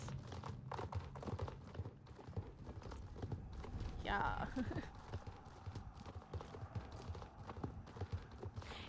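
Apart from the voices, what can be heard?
horse hooves clip-clopping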